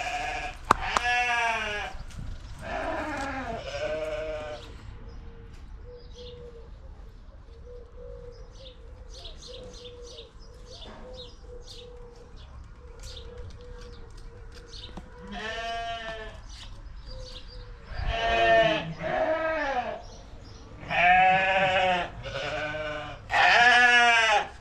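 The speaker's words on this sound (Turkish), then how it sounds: "Koyunlar da acıkmış yalım bağırıyorlar." Hungry sheep on a village farm bleat loudly in repeated bursts, with a quieter spell in between where small bird chirps and soft noises come through. Near the end the bleats return, overlapping and insistent.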